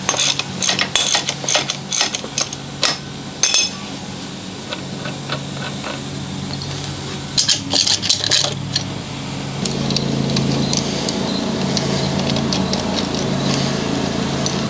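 A socket wrench ratchets loose a nut on a Willys Jeep steering wheel, giving bursts of sharp metallic clicking and clinking close up, followed by a steadier low rumble and scraping.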